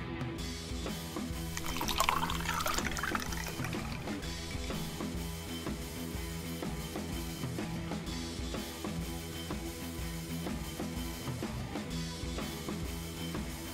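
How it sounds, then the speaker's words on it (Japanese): Kirin Lager beer pours into a mug at home, a quiet liquid glug and fizz swelling briefly near the start before settling into faint trickling and small drips, with no voices. "そしていつものように健康第一ジョッキについでいきます。"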